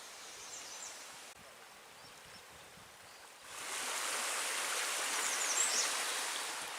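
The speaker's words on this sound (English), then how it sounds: "This is a nice bridge that gets across over this, one of the nicest streams around here" Steady broadband rush of a stream flowing beneath a footbridge on the Manistee River Trail, softer at first, then swelling louder and fuller as if stepping closer to the water.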